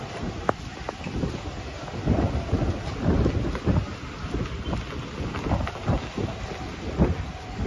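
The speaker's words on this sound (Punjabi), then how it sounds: "ਮੀਂਹ ਆ ਰਿਹਾ ਨਾ ਆਪਣੇ ਇੱਥੇ" Heavy rain roars steadily with low rumbling thunder rolling underneath, punctuated by occasional sharper cracks and gusts.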